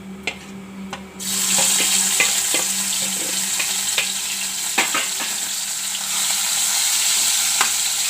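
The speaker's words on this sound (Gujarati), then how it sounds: "તેલ ગરમ થઈ ગયું છે અને હિંગ નાખી દેવું" Asafoetida, cumin and spices frying in hot oil for a tempering, with a few soft clinks before a loud, sudden burst of sizzling that keeps crackling steadily under occasional utensil taps.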